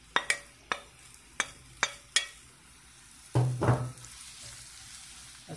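Food frying in oil in a pan, with a series of sharp metallic taps and clinks of a utensil against the pan followed by a short burst of louder sizzling and stirring, then a quiet background hiss.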